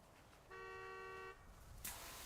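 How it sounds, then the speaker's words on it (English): A car alarm or horn sounds outside as a steady tonal blast lasting under a second, moderately loud over a quiet background, followed by a brief broadband burst. "The only thing that's going on is a car alarm going off."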